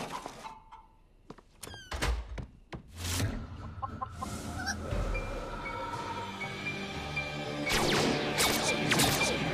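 A hen clucks and squawks amid clattering knocks and a crash, followed by rustling and scraping movement nearby.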